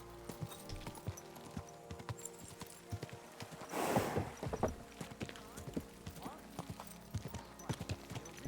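Horse hooves clip-clop at a steady walking rhythm while riding in the video game Kingdom Come: Deliverance II, moderately close, with a brief burst of rustling movement midway and someone talking over it.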